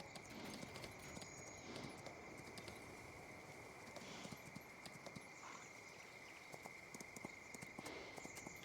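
Horse hooves walk in the Farming Simulator 19 video game, a faint steady clip-clop of hoofbeats over a constant hum and soft ambient noise.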